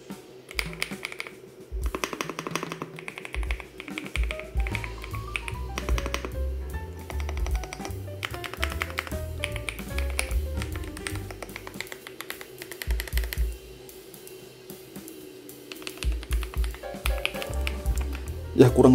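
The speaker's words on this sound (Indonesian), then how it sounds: "kurang lebih seperti ini untuk suara dari keyboard Ajas AK870" Typing on an AJAZZ AK870 tenkeyless mechanical keyboard, a close, quiet run of irregular clacky keystrokes with bursts of rapid taps and brief pauses, a faint steady hum underneath.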